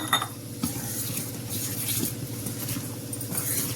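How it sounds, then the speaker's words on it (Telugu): A spoon scrapes and swirls steadily in a bowl of salt and water, soft repeated stirring strokes with light watery patter, close up and without talk. "ఇందులో కొంచెం ఉప్పు వేసి ఇది కరగటానికి కొంచెం నీళ్ళు పోసి కలుపుకుందాం"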